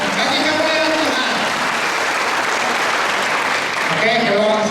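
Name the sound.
congregation applause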